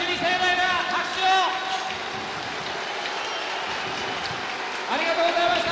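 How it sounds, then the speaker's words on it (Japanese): A packed Koshien Stadium crowd applauds Hanshin Tigers player Hiyama at his retirement ceremony, a steady rain-like wash of distant clapping that continues under a voice speaking over it. "檜山選手に盛大な拍手を。"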